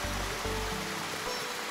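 Heavy, steady roar of the Shivanasamudra waterfalls on the Kaveri river in monsoon flood, a dense continuous rush of falling water with a low rumble throughout, close and loud, no voices.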